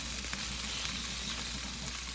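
Onions sizzle steadily in a hot frying pan as a sauté begins for ginataang kalabasa at sitaw, a continuous even crackle at moderate volume with no talking.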